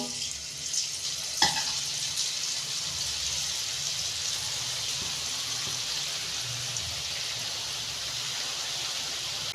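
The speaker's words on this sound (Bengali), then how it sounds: "এইভাবে আমি সব বোঁদেগুলো ভেজে নেব" Boondi deep frying in hot oil, a continuous broad hiss and crackle at steady level, with one sharp knock near the start. There is no talking.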